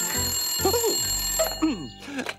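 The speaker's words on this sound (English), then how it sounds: "Let's phone Rat again, B2, and see what he has to say." A telephone rings in a children's cartoon show, steady trilling bell tones under brief vocal sounds, fairly loud and close.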